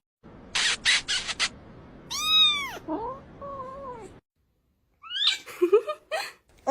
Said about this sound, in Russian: Кошка, кошка. Ты на что, кошка?